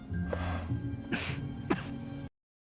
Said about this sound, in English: Now this coughing